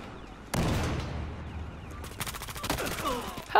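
Gunfire from the video game Battlefield Hardline, with a sudden loud crack followed by a rolling burst of rapid shots that ends in a sharp report, with no talking over it.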